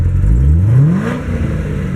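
A 2015 Corvette Stingray Z06 engine revs up loudly close by, the exhaust note rising in pitch then settling into a rumbling idle.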